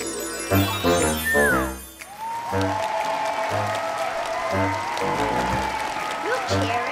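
Stage audience at a performers' contest applauding and cheering. The crowd noise runs steadily throughout, loud and sustained, mixed with a few cartoonish voiced tones and musical jingle-like sounds.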